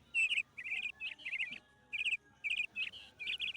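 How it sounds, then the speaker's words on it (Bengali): Birds hidden among the trees give repeated high, quick chirping bursts in short separated phrases, clear against an otherwise quiet background. "এত চিৎকার করছে, কিন্তু পাখিগুলোকে দেখতে পাচ্ছি না"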